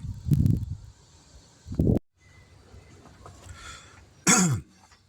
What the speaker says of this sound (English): Sorry, I always clear my throat every time I start the video.